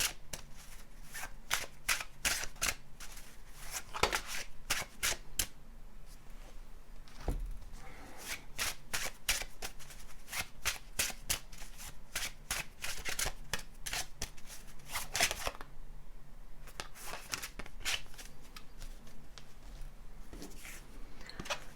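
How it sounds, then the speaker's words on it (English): Playing cards are shuffled and drawn during a card reading, with repeated crisp riffling and snapping bursts close by, continuing steadily with brief pauses. "Let's take out some more cards for you."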